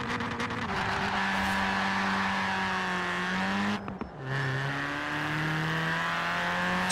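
A Ford Racing Puma engine in the Forza video game revs hard through the gears, rising droning tones broken by a brief gap at a shift before climbing again, loud and continuous.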